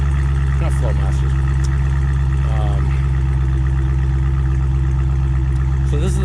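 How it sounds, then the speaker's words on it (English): A Hellcat's engine idles through its stock exhaust in a steady, deep, even rumble that holds the whole time, with a few faint, brief background sounds above it. "So this is the stock exhaust"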